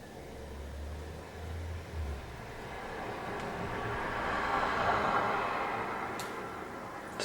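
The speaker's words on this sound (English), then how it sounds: "Sorry if you can hear like cars going past." Cars passing outside an open window on a warm day, a broad steady road rush that swells to a peak around the middle and then fades, with a faint low hum early on.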